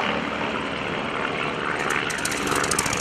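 A Van's RV-8 propeller plane sweeps past at an airshow, its engine drone loud and steady throughout, brightening slightly toward the end as it passes.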